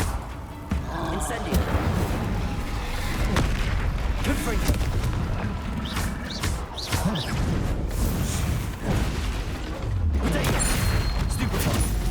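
The Confringo explosive spell in Hogwarts Legacy goes off in a string of loud, booming blasts over busy game-combat noise.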